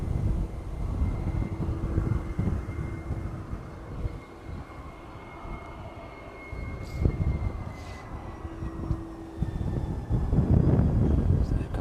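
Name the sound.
Ryanair airliner on approach to East Midlands Airport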